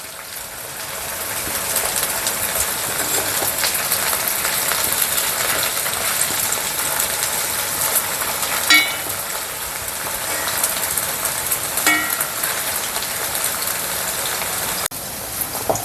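Cauliflower deep-frying in hot oil for a cauliflower mappas curry gives a steady, loud hiss and sizzle with a crackling texture that holds unbroken throughout, plus a few small clicks and no talking.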